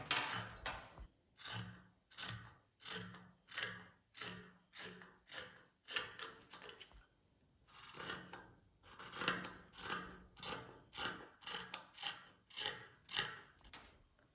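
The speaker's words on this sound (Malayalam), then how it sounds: "അപ്പോൾ ഈ ഒരു പീസ് നമുക്ക് കട്ട് ചെയ്തെടുക്കാം" Scissors cutting fabric for a full-length purdah-style top, a steady series of crisp, close snips in a regular rhythm with a brief pause midway, repeated many times with no talking.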